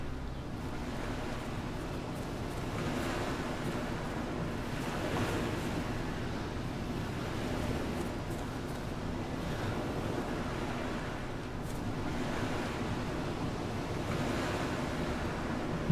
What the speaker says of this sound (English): Getting close to the ocean.